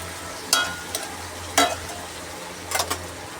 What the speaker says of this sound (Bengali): হলুদ গুঁড়ো, লঙ্কা গুঁড়ো আর হচ্ছে ভাজা মশলার গুঁড়ো একসাথেই কষিয়ে নিচ্ছি।